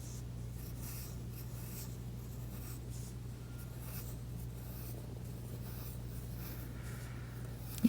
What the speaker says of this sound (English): I'm gonna draw loops going around the outside edge of my card.